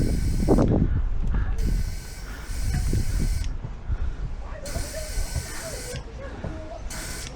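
A Draper in-line tyre inflator pumps air into a car tyre in repeated hissing bursts with pauses between them, alongside mechanical clicking and handling noises close by.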